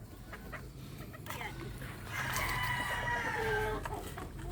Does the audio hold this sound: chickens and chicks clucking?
yes